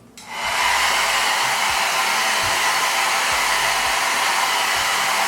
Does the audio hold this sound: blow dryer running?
yes